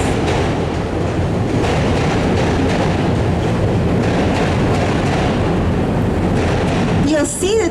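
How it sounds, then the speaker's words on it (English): A Chicago L elevated train rumbles past overhead in a loud, steady roar with clattering wheels, filling the scene throughout, with a brief squeal near the end. "That's the L going by above us."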